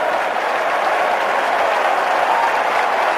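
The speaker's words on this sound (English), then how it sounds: "it gives the crowd a chance to roar again" A large stadium crowd roars and cheers continuously at an NFL football game between the Titans and the Cardinals during a measurement for a first down, a dense, sustained wash of noise.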